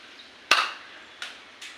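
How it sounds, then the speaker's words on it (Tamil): A homemade slingshot fired, giving one sharp loud snap followed by two fainter, shorter snaps a moment later. "இப்போ நம்ம வந்து திரும்ப ஷூட் பண்ணிடலாம்"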